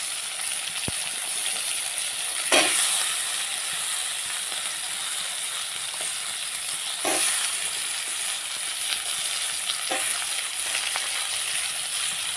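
Beans frying in a pan give a constant bright sizzle, broken by a few sharp clinks and scrapes of stirring, close and steady.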